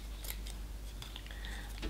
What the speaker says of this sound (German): wir schneiden uns jetzt hier den Rand ab